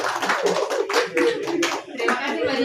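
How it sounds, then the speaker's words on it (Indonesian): Audience applause at an Indonesian anniversary seminar, a short burst of clapping from a room of attendees with some voices mixed in, rising and falling over a few seconds. "tepuk tangan untuk Mbak Dia"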